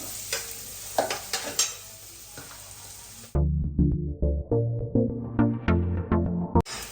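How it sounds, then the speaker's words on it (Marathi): Chopped onions frying in butter for pav bhaji in a home kitchen pan: a steady sizzle with repeated scraping stir strokes in an uneven rhythm, close and moderately loud, no talking. "या इथं पाहू शकता पैकी कांदा आपला फ्राय होतो"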